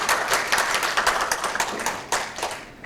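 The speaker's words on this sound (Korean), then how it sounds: "패널 분들께 다시 한번 큰 박수 부탁드리겠습니다" Audience applause at the close of a panel discussion at a product safety information open forum, a steady wash of many hands clapping for about three seconds with no talk over it.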